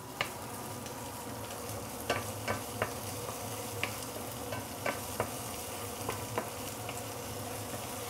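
Ginger, garlic and fermented soya bean are stir-fried in a pan, giving a soft continuous sizzle with scattered light scraping taps of a utensil, faint and close, with no voices.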